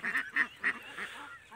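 Pekin Vigova broiler ducks give four or five nasal quacks in an uneven run, fairly close but soft, with a faint background hiss.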